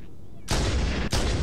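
Two heavy, booming sniper rifle shots in Halo: Combat Evolved Anniversary fire in quick succession about half a second apart, each loud and full with a long roaring tail that runs into the next.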